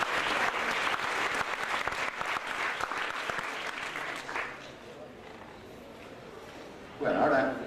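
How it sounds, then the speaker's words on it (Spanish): An audience at a book presentation breaks into applause, steady clapping for about four seconds that then fades out, leaving a quiet room before a voice briefly speaks near the end. "Un aplauso para él, ¿no?"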